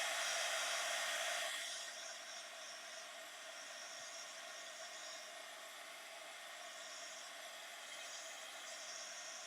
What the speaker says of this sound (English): So now I'm gonna get that heat tool out again.